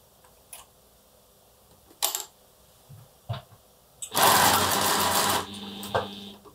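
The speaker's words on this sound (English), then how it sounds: "we're going to take this to the machine, and we're then going to sew a quarter of an inch seam all the way along." A sewing machine stitches a quarter-inch seam along quilt pieces in a short, close burst of rapid needle chatter lasting about a second, between scattered light handling clicks and taps.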